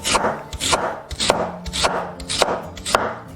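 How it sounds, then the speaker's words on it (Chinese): A knife slices through half a peeled lotus root on a board, giving about seven crisp, evenly spaced chops in a steady rhythm, close and clear with no talking. "准备半个削皮的莲藕，先切片"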